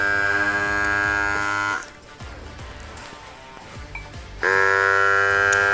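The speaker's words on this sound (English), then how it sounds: "the GRABO Pro automatically stops when it reaches a complete seal" A GRABO Pro battery vacuum suction lifter's motor runs with a loud, steady buzzing hum, cuts out for a few seconds of near quiet when it seals, then restarts at full level.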